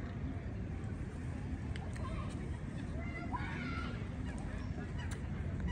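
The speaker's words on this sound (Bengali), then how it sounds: "এখানে পাখি আছে," Ducks or geese on the lake at Saint James Park honk and call faintly in scattered bursts over a constant outdoor hubbub of distant crowd noise.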